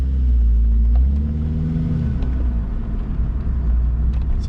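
Saab 9-3 turbo engine revving with the revs sagging, a loud steady low rumble close up with a faint whine above, no talk.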